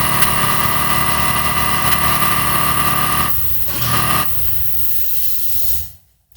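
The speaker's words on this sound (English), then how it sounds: "There goes the compressor." An air compressor in a workshop runs loudly and steadily, its motor droning with a hiss, then cuts out after a few seconds and winds down to near silence.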